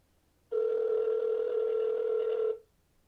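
A OnePlus 6 on Verizon rings out over speakerphone with a single steady ringback tone, loud and close, lasting about two seconds before cutting off.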